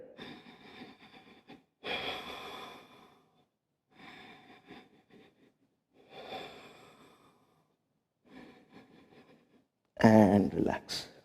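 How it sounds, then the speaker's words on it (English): Slow deep breaths during a beginners yoga class, in audible inhales and exhales with pauses between them, close and fairly soft, ending in a louder, sharper breath. "Deep breathing. Focus on the breath."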